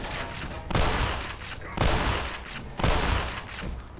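Shotgun blasts from the Team Fortress 2 video game, three loud booming shots at roughly one-second intervals, each decaying into a rumbling tail.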